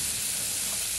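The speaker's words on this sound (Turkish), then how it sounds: "Karıştıra karıştıra arkadaşlar kızartıyoruz" Albanian-style liver sizzling and frying in a pan while being stirred, a close, dense, continuous hiss with no voices.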